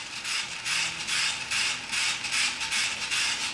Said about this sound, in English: I've been cranking up the batteries on this, like this